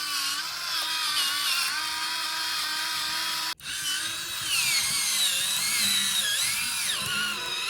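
Pencil sharpener motor whirring continuously at close range, high and grinding with pitch wavering under load, cut by a brief dropout midway before it resumes.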